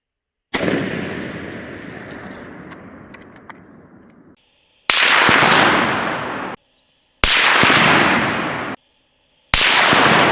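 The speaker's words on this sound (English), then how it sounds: "for this lot we've got some of Stu's hand loads. 180 grain SST projectile and 22208 powder" Sako S20 rifle firing 180 grain SST hand loads with 22208 powder, four loud, sharp shots at an outdoor range, each with a long decaying echo, spaced about two seconds apart with no talking.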